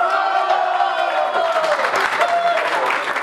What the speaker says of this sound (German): Großer Jubel bei der ÖVP Niederösterreich nach der Verkündung der ersten Hochrechnung der Landtagswahl vom vergangenen Sonntag